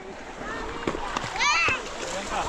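Splashes in water as a Ganesh idol is immersed, a few quick sloshes over a couple of seconds, with excited voices, including children, chattering close by.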